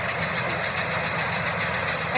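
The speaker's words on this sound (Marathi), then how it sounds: "बघा मशीननं गहू काढला जातोय" A small mini wheat harvesting machine runs steadily while cutting a wheat field, its engine giving a constant close rumbling drone with a broad mechanical hiss and no break.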